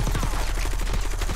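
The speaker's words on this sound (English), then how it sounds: "Seeing this right now, shooting these targets with the plates on it." Rapid automatic gunfire from a PU21 in Call of Duty Warzone as it hits armor-plated targets, a dense, loud burst that fills the short moment with no talking.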